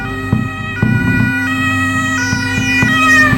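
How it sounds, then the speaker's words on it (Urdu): An ambulance siren wails loud and close, its tone stepping up and down in a repeating two-note cycle with a low engine rumble beneath, no voices. "ساتھی گھبرا گئے، فوراً ایمبولینس بلائی گئی۔"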